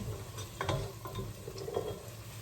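Yellow onions sauté in a pan, giving a faint, soft sizzle with a few quiet stirring scrapes close by and no voices.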